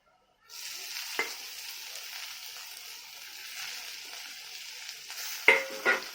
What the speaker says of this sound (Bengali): রসুনটা ভাজা হয়ে গেছে, এবার শাকটা দিয়ে দেবো।